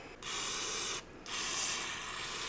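Aerosol cleaner hisses in two sustained bursts as it is sprayed onto the outside of a carburetor from an Apollo 250 RX motorcycle, a short spray, a brief pause, then a longer steady jet close to the microphone.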